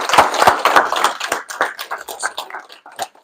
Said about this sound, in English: But to give him one more round of applause, please.